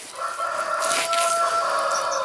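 Chickens cluck and a rooster crows on a farm at morning feeding time, the crow rising loud and clear over steady nearby clucking, with no talk.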